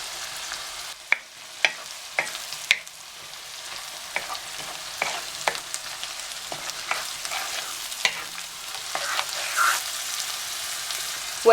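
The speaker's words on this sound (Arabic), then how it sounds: "بعد ما نزلت الصلصه هنزل بعصير طماطم." Tomato juice goes into a pan of hot sauce while sausage fatteh is being made. A soft sizzle runs under scattered spoon clicks and scraping taps against the pan, with no talking.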